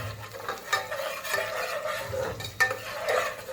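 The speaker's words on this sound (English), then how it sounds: "So we're going to go ahead and check on our vegetables now. They are coming up to a nice hot saute." Vegetables sauté in a hot soup pot, giving a steady close sizzle broken by several brisk stirring scrapes of a utensil against the pan, and no voices.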